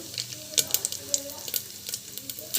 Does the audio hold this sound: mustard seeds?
yes